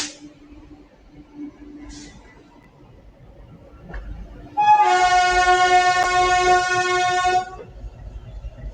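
Porbandar–Rajkot passenger train 59564 entering Rajkot junction sounds a loud, sustained horn blast lasting about three seconds over steady rolling rumble, with a couple of faint earlier toots.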